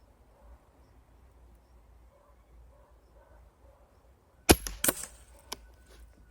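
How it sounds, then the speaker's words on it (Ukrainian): After quiet background, a loud sharp crack from a custom varmint rifle rings out, quickly followed by a second shot and a fainter third, echoing briefly. "5 пострілів."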